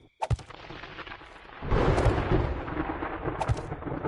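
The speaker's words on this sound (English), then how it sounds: "Oh, this storm just doesn't want to quit." Rolling thunder from a thunderstorm in the video game 7 Days to Die, a sharp crack followed by a long, loud rumble with rain-like hiss, heard alone with no talk.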